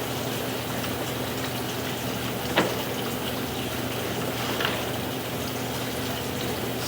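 Water rushing steadily through a residential sewer line during a camera inspection, a continuous hissing wash with a faint low hum underneath and a couple of brief knocks, no voices.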